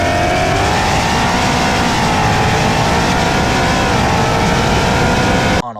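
A Ford Mustang 5.0 on a 40-roll dyno accelerates hard, its loud, continuous engine note climbing steadily in pitch for several seconds before cutting off abruptly.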